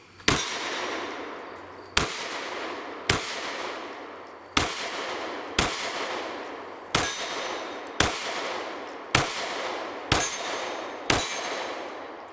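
A Springfield Hellcat pistol at an outdoor range, a series of about ten sharp cracks, each ringing off with a metallic tail, fired at a steady, unhurried pace, one to one and a half seconds apart.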